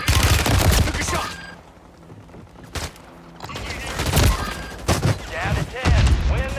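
Gunfire in the video game Warzone: several sharp bursts and single shots crackle over a busy game soundscape, loud and close, with quieter gaps between volleys.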